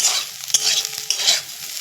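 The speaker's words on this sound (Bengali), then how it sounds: "এটা ভালো করে ভেজে নেব।" Food frying in a pan on the stove, with a close, bright sizzle and a couple of sharp clicks from stirring scattered through it, no voices.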